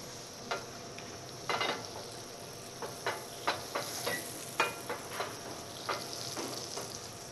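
Butter browning to a nutty colour in a pan before meat is seared, giving a continuous close sizzle with a series of sharp scraping and tapping strokes from stirring.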